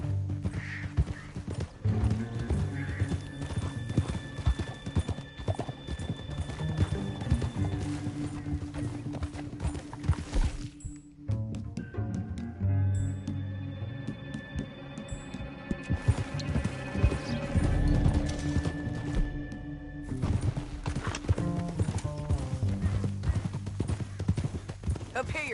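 Horse hooves clip-clopping in the video game Red Dead Redemption 2, a steady rhythmic trot running through the whole stretch under game music and character dialogue, with a brief whinny and a short break partway through.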